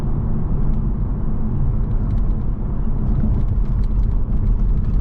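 Cabin of a 2016 Lexus GS F with adaptive sport suspension in S+ mode driving over a bumpy road section, a loud, steady low road rumble and tire drone with faint knocks and rattles over the bumps.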